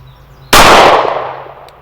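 A single sharp gunshot cracks out, loud and close, with a long decaying echo rolling away afterward; the faint ring of a steel target may sit within the tail.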